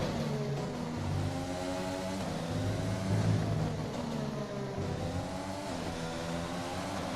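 Turbocharged race car engine with a failing turbocharger in a racing video game, a steady droning hum with shifting tonal whine as revs rise and fall, moderately loud and continuous throughout.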